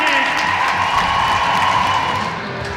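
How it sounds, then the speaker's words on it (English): A huge Sunday afternoon ice hockey crowd gives a standing ovation at a Sheffield Steelers versus Cardiff Devils game, sustained loud applause and cheering filling the arena throughout. "And a standing ovation from this huge Sunday afternoon crowd."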